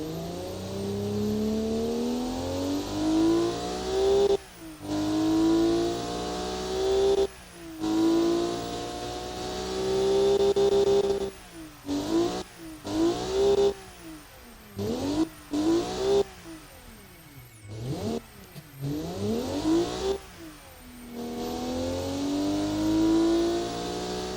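Turbocharged Honda-style VTEC car engine of about 170 horsepower revving repeatedly past 4,000 RPM, rising whining pulls that climb in pitch, drop off, and climb again, loud and close with no talk.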